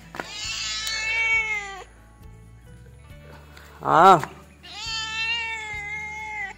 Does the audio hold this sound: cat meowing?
yes